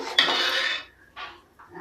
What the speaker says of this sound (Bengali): ভালো করে নাড়াচাড়া করে দেবো।